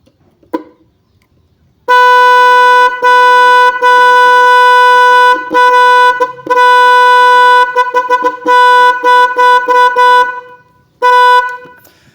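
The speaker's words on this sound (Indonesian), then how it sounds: "Oke, kita langsung tes untuk suara bunyinya gimana ya." A universal snail-type electric horn for motorcycles and cars is tested up close, sounding loud sustained blasts with several short toots in between and brief gaps, alone with no talk.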